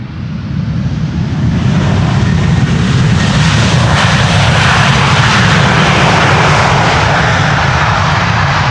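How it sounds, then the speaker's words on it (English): A United Airlines Boeing 767-300 jet arriving from Chicago roars steadily and loudly overhead on approach to runway 18R at Amsterdam Schiphol, a sustained, close engine rumble with a broad hiss and no voices. "United Airlines flight 909, arrival from Chicago,"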